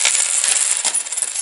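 Pile of Soviet-era coins, roughly 1.5 kilograms, being stirred and handled by hand, giving a close, continuous bright metallic jingling and clinking with no speech.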